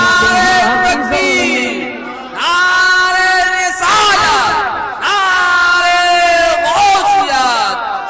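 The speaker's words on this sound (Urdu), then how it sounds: "عمران بھائی بہت نعرے لگا رہے ہیں" At a naat gathering, an audience loudly chants religious slogans in unison, in three long sustained bursts separated by short pauses, close and forceful.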